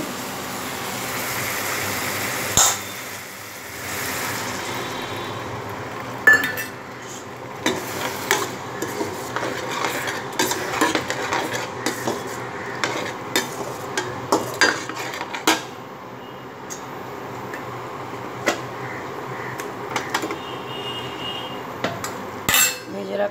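Potatoes are stirred and fried in a pan for a Bengali home dish, with a spatula scraping and clinking against the metal repeatedly over a steady sizzle, close and fairly loud with no talking.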